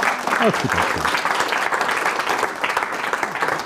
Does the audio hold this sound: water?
no